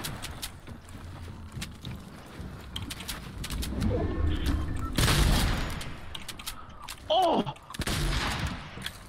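Several sharp shotgun blasts from slug rounds in Fortnite crack through the mix, including a strong burst near the middle and more shots toward the end, over quieter game ambience.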